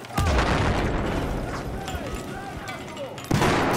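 Grenade explosions in Battlefield 4, with a heavy boom at the start and another near the end over a continuous rumbling battlefield din and faint voices.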